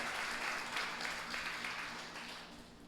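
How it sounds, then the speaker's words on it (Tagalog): A church congregation applauding during a Sunday worship service, a dense wash of clapping that starts strong and gradually tapers off over a few seconds. "Palakpakan nyo ang Diyos."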